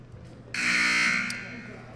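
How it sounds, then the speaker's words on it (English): A loud electronic buzzer sounds at a junior college basketball game between Miami Dade and Tallahassee, one sustained blast of under a second over low arena hum and murmur. "There's the buzzer."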